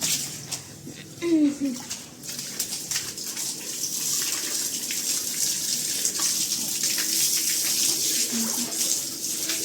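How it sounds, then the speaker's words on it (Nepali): Water gushes and splashes steadily onto a hard floor as it is poured to wash it, for several seconds, with a voice speaking briefly near the start. "यसरी पानी हालेर सफा गर्नुपर्ने हुन्छ"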